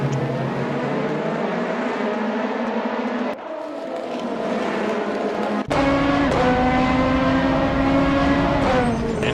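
Race cars from a racing video game braking hard into the roller coaster corner at Autopolis, Japan, heard as steady engine whine and droning revs that cut off, then return louder with rising pitch, with no talk over them.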